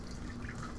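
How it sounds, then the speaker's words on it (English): Splashing, dripping water as a character washes off in The Forest video game, a short continuous wet trickle heard up close, with no talk. "Oh, wait, there's water."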